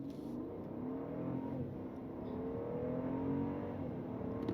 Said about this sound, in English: foot of the brake, pin the throttle, let it go.